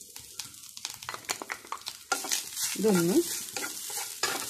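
Crushed coconut stirred and roasted in a pan, with a spatula scraping and a light sizzle in short strokes up close, and a brief spoken word near the start.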